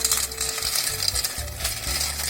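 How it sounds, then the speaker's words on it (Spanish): Dry fusilli pasta is poured into a pot of boiling water at home, making a scatter of hard, rattling clicks and splashes over several short bursts, close and fairly loud, with no talking. "Ya que está hirviendo nuestra agua, vamos a vaciar nuestra pasta."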